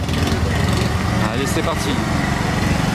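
A Porsche 992 GT3 race car engine runs with a buzzing, scooter-like drone and brief revs, heard under someone speaking close by at a motorsport event in Monaco.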